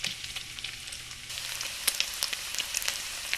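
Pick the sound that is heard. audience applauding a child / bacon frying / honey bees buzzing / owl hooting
bacon frying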